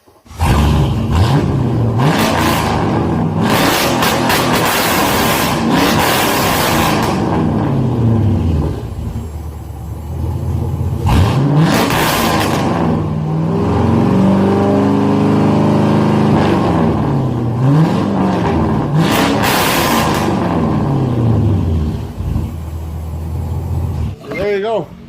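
Straight-piped pickup truck with a 5.3-litre LS V8 runs loud and close, revving repeatedly in surging bursts with a deep rumbling exhaust note, while people talk over it.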